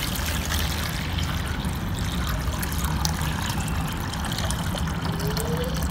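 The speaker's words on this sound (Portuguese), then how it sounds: "A gente coloca água, né? Até essa altura." Water poured into an ice cream tub to set up a simple hydroponic lettuce container, a steady, close trickling wash that runs unbroken and alone throughout.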